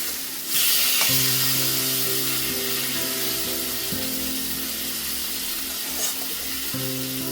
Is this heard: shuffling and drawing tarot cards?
no